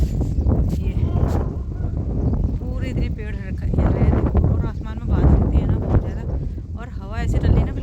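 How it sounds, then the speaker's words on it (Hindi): Cold wind gusting across a rooftop on a cloudy day with trees swaying, a steady broad rush of air buffeting the microphone throughout while someone talks over it. "हवा ऐसे चल रही है ना बिल्कुल ठंडी वाली"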